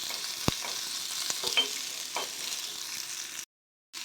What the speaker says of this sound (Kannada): ಈರುಳ್ಳಿ ಎಲ್ಲ ಸ್ವಲ್ಪ ಲೈಟ್ ಬ್ರೌನ್ ಕಲರ್ ಬರೋ ತನಕ ಫ್ರೈ ಮಾಡ್ಕೋಬೇಕು